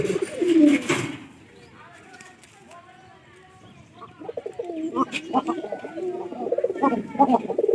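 A paired pigeon gives a deep, resonant cooing call up close, repeating in throaty pulses, with a person speaking over the start and background rustling.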